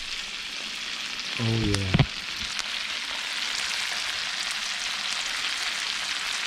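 Gulf shrimp with garlic and Thai chilies sizzle steadily in a hot pan, a continuous hiss and crackle throughout, with a brief spoken exclamation near the start.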